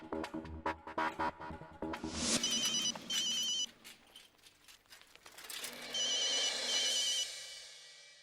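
A telephone rings in a Hindi television comedy, with bursts of electronic ringing over background music and a short pause between rings before the ringing comes back.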